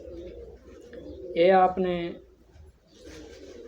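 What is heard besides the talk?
pigeons cooing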